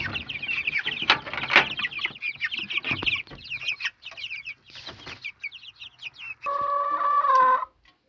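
Several chickens cluck and chatter nearby in busy bursts, ending with a louder drawn-out squawk.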